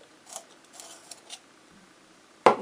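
A pencil is sharpened for an art drawing session: a few faint scraping turns, then one sharp, close crackling burst near the end, with no talking.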